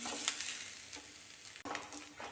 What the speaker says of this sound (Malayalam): തേങ്ങ ബ്രൗൺ കളറായി വരുന്നുണ്ട്